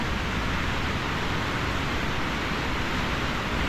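Heavy, swollen waterfall after rain near a hillside, a steady broadband roar of falling water and spray that stays loud and unbroken throughout, with no voices.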